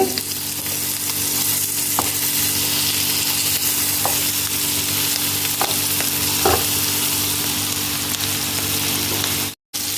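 Curry fries in a pan with coriander leaves added, a loud continuous sizzle with a steady hum beneath and a few sparse stirring knocks, briefly cutting out near the end.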